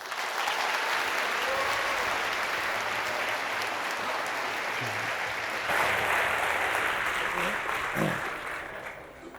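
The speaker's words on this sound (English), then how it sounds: "Can I please have a warm applause for Michael Haupt?" Sustained audience applause fills a presentation hall at a Society 4.0 event in Amsterdam, a dense steady wash of clapping that swells slightly near the end, with a faint voice underneath.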